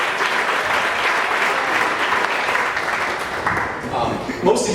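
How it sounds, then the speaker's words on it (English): A wedding crowd gives the couple a round of applause, a thick wash of clapping at steady volume that begins to thin toward the end, with voices faintly mixed in underneath. "I say we give another round of applause for them"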